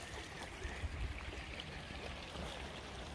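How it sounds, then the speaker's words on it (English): A creek flows beneath a small footbridge on a wooded hiking trail in Fahnestock State Park, giving a steady, close rush of running water that fills the whole stretch without pause. "The creek passes underneath this little bridge"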